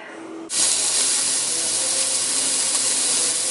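A sudden loud, steady sizzle erupts after a brief quiet moment and holds evenly, like chicken hitting a very hot grill.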